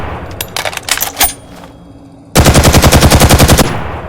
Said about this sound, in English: The next gun he finds here is the Thompson.